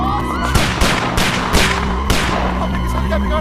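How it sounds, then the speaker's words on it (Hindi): Gunshots in a Hindi-dubbed movie scene: several loud, sharp cracks fire at irregular intervals over a steady low rumble of background score. "बॉस, लगता है कोई गोली चला रहा है।"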